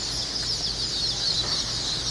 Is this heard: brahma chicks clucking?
yes